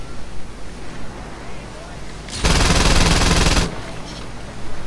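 Gunfire in the Saints Row 2 video game: a loud, dense burst of rapid automatic shots lasting about a second, standing out sharply over quieter game ambience.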